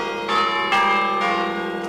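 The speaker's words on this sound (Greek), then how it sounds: "Μαζί με τις σιρήνες ήχησαν και οι καμπάνες σε ναούς." Church bells ring out in Crete during a siren alert, with several sustained, resonant strikes swelling in turn against a steady tonal background.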